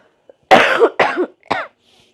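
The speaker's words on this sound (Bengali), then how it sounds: "কাশির যন্ত্রণায় কথা বলতে পারি না" A woman with a cold, cooking in a home kitchen, coughs three times in quick succession, close and loud, with silence between the bursts.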